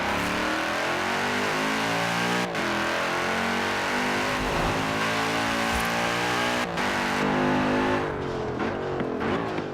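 Aston Martin engine revving hard in the Forza Horizon 4 racing game, a loud, continuous high-revving roar with rising and falling pitch and brief gear-shift breaks, no talking.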